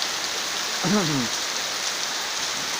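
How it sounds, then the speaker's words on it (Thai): Steady broadband hiss of rain falling, continuous and fairly even, with a brief faint voice-like chirp partway through. "ดูฝนตกนะครับ"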